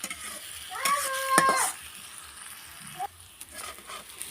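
Potatoes cooking in a pan with a splash of water added, giving a brief hissing sizzle with scraping stirs that quiets into a low, faint simmer.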